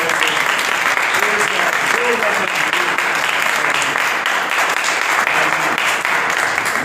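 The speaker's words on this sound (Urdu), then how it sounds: "اللہ کے کلام کے لیے زوردار تعریف" Loud, dense applause from a church congregation after a sermon fills the whole stretch without a break. A voice is faintly audible beneath the clapping.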